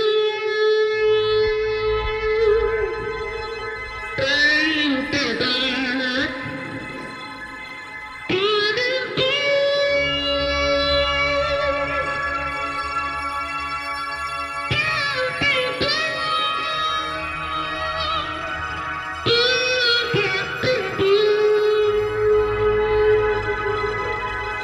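A single voice, looped on a looping machine and processed into layered sustained tones, with siren-like swoops and vocal bursts recurring every few seconds over a low droning bed.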